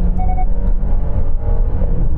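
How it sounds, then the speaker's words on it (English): A Genesis GV70 petrol engine under full throttle gives a deep, steady engine roar and road rumble heard from inside the cabin, loud and continuous during a motorway overtake. "when you floor it, this petrol engine does get a little bit kind of vocal"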